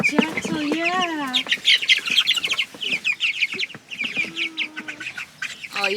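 4-week-old meat chickens cluck and squawk close by in a busy, overlapping chorus, with a rooster-like call near the start and some scattered background talk.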